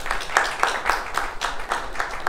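Steady rhythmic clapping from a small group applauding Team A at an accounts quiz contest, with evenly spaced claps at a quick, regular beat, moderately loud and close, with no talking over it.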